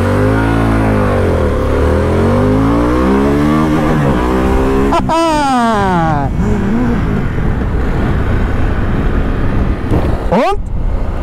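A Harley-Davidson Pan America 1250 motorcycle engine revs hard and climbs through its gears, with rising and falling pitch sweeps, loud and close throughout.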